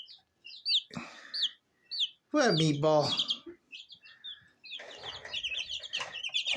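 One- and two-week-old baby chicks peep in high, rapid bursts, close by and fairly quiet, with people talking over and between the chirps.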